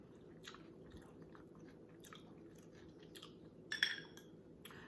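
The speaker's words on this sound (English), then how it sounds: "The second taco is going down." A keto taco being chewed close to the mic, soft repeated crunching bites over a quiet background with one louder crisp bite near the end, no talking.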